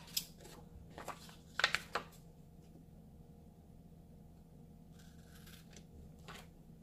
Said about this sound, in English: I'm going to get my scissors and then just cut off the excess.